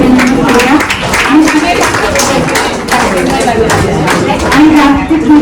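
Audience clapping for a woman honoured at a Women's Day gathering of a senior citizens' association, steady applause of many hands throughout, mixed with crowd chatter and a voice speaking over it.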